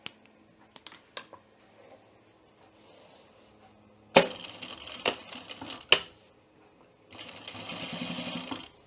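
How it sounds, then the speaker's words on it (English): A sewing machine stitches along the line of a welt pocket, opening with a few sharp clicks and short bursts of needle action, then settling into a steady, close running hum of stitching. "I'm going to stitch on my line."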